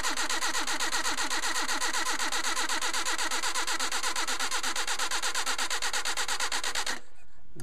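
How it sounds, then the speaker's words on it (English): Mercedes 190SL engine fitted with Solex carburetors cranks on a bump starter, a steady rapid chugging rhythm that runs loud and close for about seven seconds before cutting off abruptly into near silence. "bump starter, which is how I start the engines"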